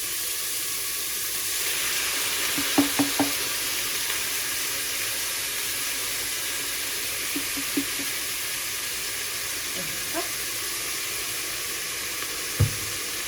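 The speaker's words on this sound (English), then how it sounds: "So I put around 200 grams of tomato sauce." Tomato sauce poured into a pot of sizzling Bosnian beef goulash, giving a steady loud hiss of frying with a few soft bubbling pops and light stirring knocks throughout.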